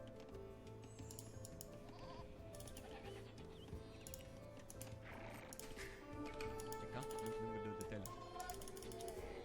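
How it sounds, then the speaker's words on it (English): Goats bleating in a strategy video game set in West Africa, repeated bleats layered over game music and ambient effects, moderately loud throughout. "More goats."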